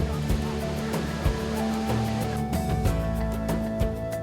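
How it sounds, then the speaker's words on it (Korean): Constant roaring rush of the broad, low Jiktang waterfall pouring over basalt ledges on the Hantan River, with a deep rumble and a few soft thuds under background music. "바로 직탕 폭포다."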